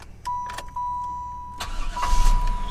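A 1996 Chevrolet Impala SS starts up: brief starter cranking, then the engine catches and settles into a low rumbling idle, close and fairly loud, with no talking.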